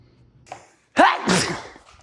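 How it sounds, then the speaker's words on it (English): A single sharp sneeze bursts out after a quick inhale and brief pause, close and fairly loud, while seasoning beef with salt and pepper. "if you ain't sneezing while you seasoning it, then you ain't seasoning right"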